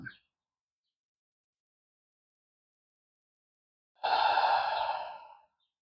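A deep, audible exhaled breath at the close of a full body mobility yoga routine, a single long, soft, breathy sigh after a stretch of near silence, close to the microphone, with no talking.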